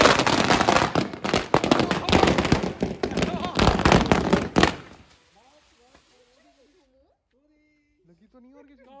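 String of firecrackers bursting in rapid crackling succession for several seconds during a street celebration of the Ayodhya Ram Mandir consecration, then stopping abruptly as voices talk in the quiet.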